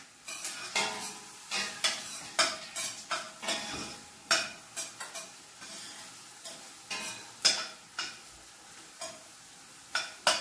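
Onions fry in a pan for mutton curry, a constant soft sizzle broken by repeated sharp scrapes and clinks of a spoon stirring against the metal, close and rhythmic, about a dozen strokes.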